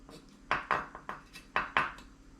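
A knife taps down repeatedly on a cutting board while green beans are lined up and trimmed, giving about seven sharp, close knocks in an uneven rhythm over a quiet background.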